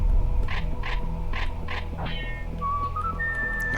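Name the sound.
Indiana Jones whistle tune in Serious Sam video game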